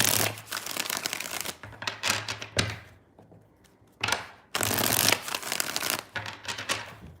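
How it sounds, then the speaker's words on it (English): Tarot cards are shuffled by hand in repeated bursts of riffling and flapping, close and crisp, with a short quiet pause in the middle before shuffling resumes. "Three more shuffles, 3 more"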